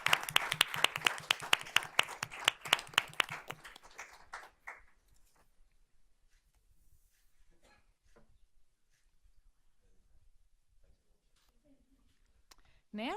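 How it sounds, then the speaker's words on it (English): A short burst of audience clapping for two young ladies at a school board meeting honors presentation, lasting about four seconds before dying away into a quiet room with faint shuffles. "Let's give these 2 young ladies a round of applause."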